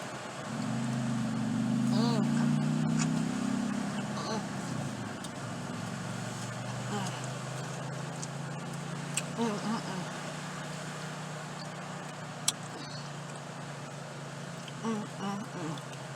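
Passing car traffic on a road beside the ocean, a low, steady rumble with a louder vehicle swell early on, heard under people talking and laughing outdoors.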